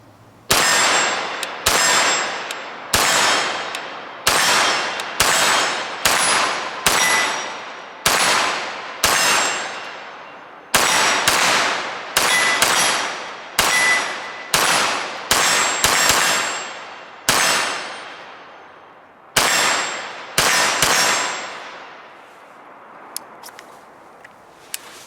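A series of Angstadt Arms UDP-9 9mm pistol shots ring out against steel targets 25 yards downrange, each sharp report followed by a metallic clang, fired in quick pairs and bursts with short pauses and a slowing cadence, loud and close.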